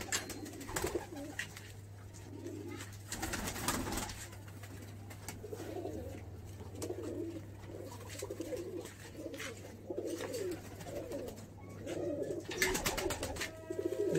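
Pigeons coo repeatedly in a breeder's loft of young chicks, soft throaty calls recurring every second or so against a steady low hum, with a few louder bursts near the start and end.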